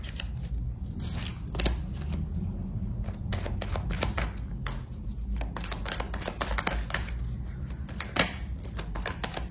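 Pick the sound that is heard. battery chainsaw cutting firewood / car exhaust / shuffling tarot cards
shuffling tarot cards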